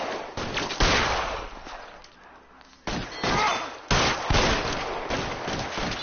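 Suppressing gunfire in a video game: loud, sustained bursts of rapid shots in several long volleys with brief lulls between, dense and close.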